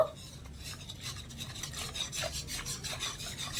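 Milk powder being stirred into about 250 ml of lukewarm water, a close rhythmic scraping and rubbing of a utensil against the bowl, repeated strokes at a steady pace.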